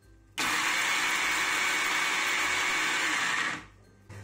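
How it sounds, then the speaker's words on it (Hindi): A mixer grinder runs a steady, loud whirring burst of about three seconds while grinding dry fruits into powder for a baby recipe, starting abruptly and winding down at the end, with no talking. "अब हम इसे ग्राइंड करेंगे।"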